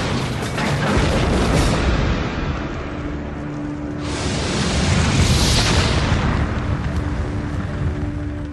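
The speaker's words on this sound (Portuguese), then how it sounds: "E explode em seu paiol, detonando 300 toneladas de munição." The Bismarck battleship's magazine detonates with 300 tons of ammunition, heard as a dense, sustained roaring blast that swells, dips and surges again across several seconds, loud and continuous with no talking.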